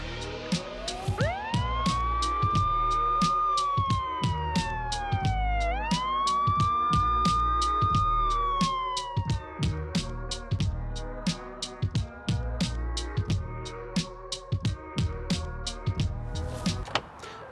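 A police siren wails up and down loudly for several seconds, then fades, leaving rhythmic clicking and beats behind it.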